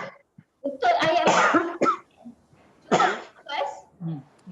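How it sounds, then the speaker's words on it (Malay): Several harsh coughs in short bursts, close and loud, separated by brief pauses, with a bit of throat clearing mixed in. "batuk-batuk."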